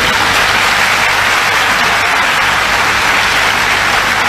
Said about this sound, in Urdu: لوگ تالیاں بجا رہے ہیں